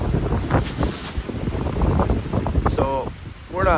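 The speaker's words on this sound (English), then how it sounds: "40-mile-per-hour gusts. And it's been doing this since like 11 o'clock last night." Strong 40-mile-per-hour gusts of wind roar and buffet the microphone in a steady low rumble that swells and eases, with faint muffled voices underneath, in the Boundary Waters in early October.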